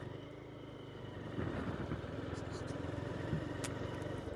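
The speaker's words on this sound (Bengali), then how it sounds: "তো আমি বাইকে যাচ্ছি" A motorcycle rides along a road through a village of small aloe vera plots, its engine a steady mid-pitched drone under wind, growing a little louder partway through, with a voice talking over it.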